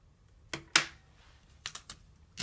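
Paper pattern pieces are matched up and taped together while lengthening a sewing pattern, producing a few sharp, irregular crinkles and taps spaced over a couple of seconds, close and faint, with no talk.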